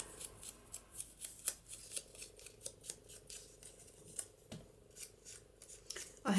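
Scissors snipping out paper pieces for junk journal embellishments, a close, crisp series of rhythmic cuts at roughly even pace, with a faint rustle of paper near the end.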